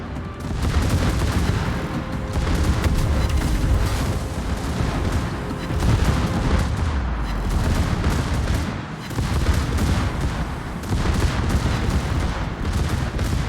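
Secondary guns on the German battleship Schlieffen in World of Warships keep firing in a continuous, rumbling barrage of booms and cracks, loud and close, with no talk.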